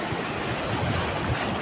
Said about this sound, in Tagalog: Ang problema nito guys is ang laki ng alon.